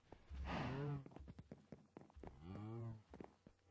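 Two drawn-out video game cow moos, one early and one later, with a few soft clip-clop taps in between; fairly clear and close.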